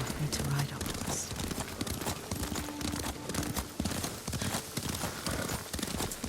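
Rhythmic clip-clop of horse hooves during riding in the Ghost of Tsushima video game, a busy, dense trot heard under game sound and voices.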